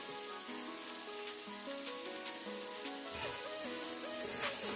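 Thyme and rosemary sizzle as they bloom in a pot for great northern bean soup, a continuous soft frying hiss heard under background music.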